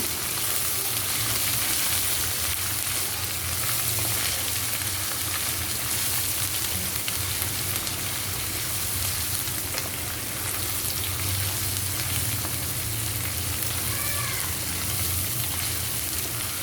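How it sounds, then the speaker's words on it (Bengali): Ginger and garlic paste frying in a pan, giving a steady, moderately loud sizzle and hiss that runs without a break, with no voices. "একটু 2 মিনিটের মতন আদা রসুনের কাঁচা গন্ধটা ভেজে সরিয়ে দিব"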